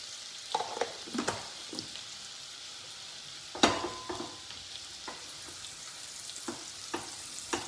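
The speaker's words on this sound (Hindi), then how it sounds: "डालते हैं थोड़े से अनियंस, 1 स्मॉल अनियन आप डाल सकते हैं इसमें। इसको हल्का सा सौते करेंगे।" Onions sautéing in hot melted ghee and butter, a steady close sizzle with scattered stirring clatters and a louder scrape partway through, no talking.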